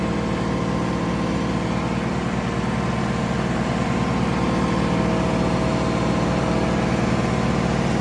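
A tractor engine running on a farm, a steady low droning rumble with a constant throbbing pulse, loud and close throughout with no pauses and no talk.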